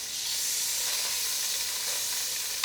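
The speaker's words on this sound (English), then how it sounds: "love that sizzle." Steady loud sizzle of celery and ginger frying in a hot pan, a continuous hiss with no talking.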